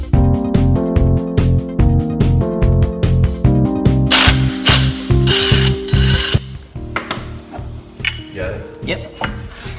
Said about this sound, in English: We're gonna take the flywheel off now.